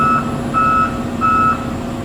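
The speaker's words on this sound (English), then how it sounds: "And the damn track beeps. It beeps 4 times after you quit moving." A Volvo 220EL excavator's track warning beeper sounds in evenly spaced, loud electronic beeps over a steady idling engine hum, no voices.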